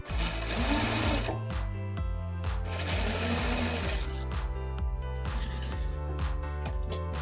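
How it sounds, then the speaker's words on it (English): A sewing machine runs steadily and loudly up close, stitching the lining of a tote bag closed along the edge, with a fast mechanical rattle and brief pauses. "stitch that closed along the very edge"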